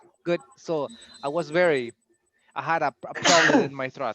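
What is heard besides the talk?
sneeze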